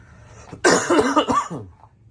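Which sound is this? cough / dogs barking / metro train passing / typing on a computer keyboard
cough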